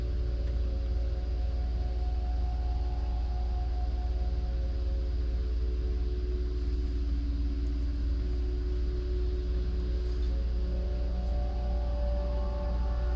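A car drives along the main road through Arches National Park, heard as a steady low engine and tire rumble with constant road noise throughout and no talking.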